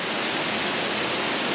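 Champagne Falls waterfall pours in a steady, loud broadband roar, close by and unbroken throughout, with no voices.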